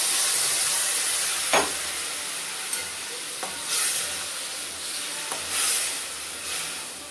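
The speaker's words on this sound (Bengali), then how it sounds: "আমি একটু জল দিয়ে দিলাম।" Water poured into a pan of hilsa fish head and mixed vegetables, a loud burst of sizzling and steam hiss that slowly settles, with occasional stirring clinks against the pan.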